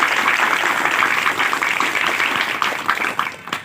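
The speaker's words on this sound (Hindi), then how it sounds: "तो उनके लिए एक बार ज़ोरदार तालियां हो जाए।" Loud applause from a crowd at an organisation's foundation day celebration, dense continuous clapping throughout, easing slightly toward the end.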